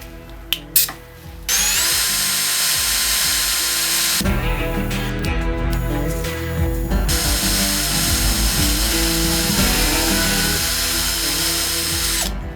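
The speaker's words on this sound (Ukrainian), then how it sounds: "І тепер давайте спробуємо, як 1 мм сверлить метал." Ronix cordless screwdriver drilling metal with a 1 mm bit, a loud high whirring motor that starts after a few clicks, pauses briefly, then runs steadily again.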